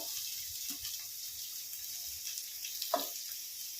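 Chopped onion, tomato, ginger and garlic fry in two spoons of oil for a paneer angara, giving a steady hiss throughout with a couple of soft stirring scrapes and one brief clink.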